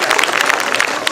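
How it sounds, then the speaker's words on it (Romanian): At a Dobrogea folk dance and costume festival, an audience applauds Ștefan Coman with steady, dense clapping. The applause is close and continuous throughout the short moment. "Vă rog să-l aplaudați."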